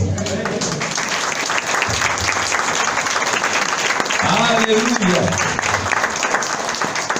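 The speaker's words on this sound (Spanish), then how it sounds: "denle un fuerte aplauso al Señor" A church congregation applauds the Lord during a sermon, a steady, full wash of clapping with voices and a shouted exclamation rising over it.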